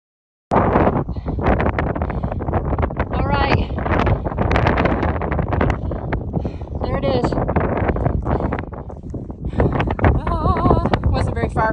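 Strong wind buffets the microphone on West Peak of the Bigelow range along the Appalachian Trail, a loud, continuous, gusty roar with sharp flutters.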